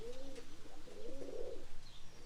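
Pigeons cooing nearby, with two drawn-out throaty rolling coos separated by a short pause over a quiet background.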